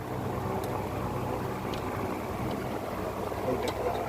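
An 1800-egg incubator machine runs with a steady broadband hum and airy rush, constant and moderately loud, with a few faint clicks over it.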